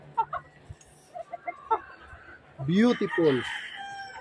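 A Sweater-bloodline gamefowl rooster clucks in short bursts, then lets out one full crow up close, with a voice briefly speaking in between.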